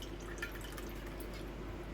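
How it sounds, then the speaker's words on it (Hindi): Water poured into a pan of arbi (taro root) curry with yogurt in the kitchen, a faint steady trickle and drip running throughout, quiet and close with no talking. "और अब मैं क्या करूँगी, इसमें डाल दूँगी पानी।"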